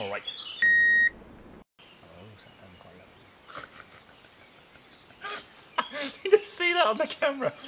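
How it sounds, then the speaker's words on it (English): A single steady censor beep, loud and about half a second long, cuts across speech outdoors in a bushcraft setting, followed by more talking. "well that'll be beeped"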